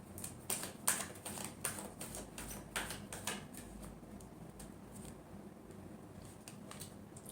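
Tarot cards shuffled by hand, a run of quick crisp riffling clicks and flicks close up that thin out toward the end, quiet with no talk.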